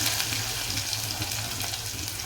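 Chopped large onion added to a hot cooking pan, giving a steady, close, hissing sizzle that stays even throughout with no talk.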